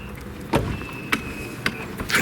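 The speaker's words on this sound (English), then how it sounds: "I'm going to put the top up here in a minute." The power-operated convertible top of a Ferrari California runs with a faint steady motor whine, broken by four sharp mechanical clicks and clunks spaced about half a second apart.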